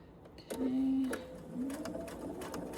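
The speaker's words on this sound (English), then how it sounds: "And again, I'm going to back stitch." A sewing machine back stitches a Huxley bowl filler, with a short motor whir, a pause, then a second quieter run, close and clear.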